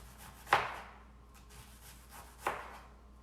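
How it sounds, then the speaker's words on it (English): Two sharp knife chops through an onion being scored on a cutting board, spaced about two seconds apart, close and crisp with quiet pauses between. "I'm basically scoring the onion, giving it a nice chop"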